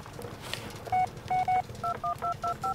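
Telephone keypad tones in the horror video game Blair Witch, a string of about eight short, evenly spaced beeps dialed one after another, fairly faint against a quiet background.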